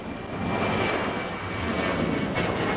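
A fixed-wing airplane drones steadily overhead, a loud continuous engine roar with no talk.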